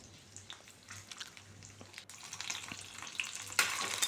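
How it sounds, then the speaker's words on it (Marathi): Garlic, green chillies and ginger pieces fry in hot oil with a steady crackling sizzle and occasional stirring scrapes, growing louder and busier toward the end, with no talking. "तर अशा पद्धतीने ही व्यवस्थित आपण फ्राय करून घेऊया तेलामध्ये."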